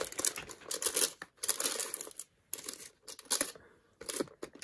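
Paper packaging of an advent calendar door being pried open by hand, a run of close, soft crinkling and tearing bursts separated by short pauses.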